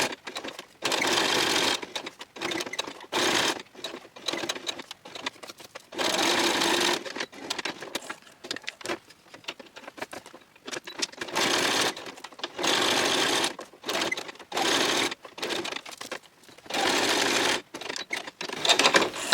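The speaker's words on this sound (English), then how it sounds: "So I'm just going to quickly whiz my machine around these two little tags" Domestic sewing machine whizzing around two small fabric tags, running in repeated short bursts of fast whirring stitching separated by brief pauses, close and fairly loud with no talking.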